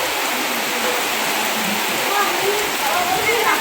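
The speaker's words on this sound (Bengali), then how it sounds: "কী অবস্থা বৃষ্টির মধ্যে, কাঁচা বৃষ্টি" Heavy rain pours down in a steady, dense hiss that stays loud and unbroken throughout, with no clear voices over it.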